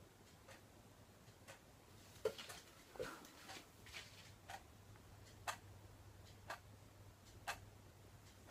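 A cheap Fix Price wall clock ticks loudly and steadily, about one sharp click per second, close by and alone against a faint background hum.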